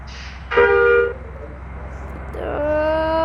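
Bus horn in a bus simulator video game, two short toned honks, the second longer, loud and close over a low engine hum.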